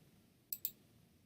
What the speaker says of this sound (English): by clicking the right mouse